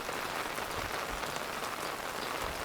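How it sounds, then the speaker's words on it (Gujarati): Heavy daytime monsoon rain pours down in a steady, dense hiss of drops striking surfaces, unbroken and fairly loud throughout with no voices. "ચાલો છોકરાઓ, ચાલુ વરસાદમાં સ્કૂલે જવાની છે ને મજા આવે કા દિત્યા?"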